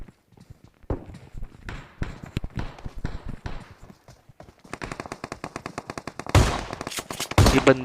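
M14 rifle gunfire in the PUBG Mobile video game, sharp repeated shots in bursts and single cracks, growing louder and denser toward the end, with faint footstep-like sounds between the shots.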